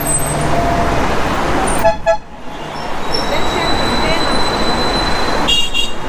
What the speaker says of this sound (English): Everybody's honking at me.